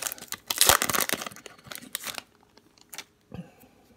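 A pack of 2017 Optic football cards being torn open, close crinkling and ripping of the foil wrapper in quick bursts, then quieter scattered rustles as the cards are pulled out.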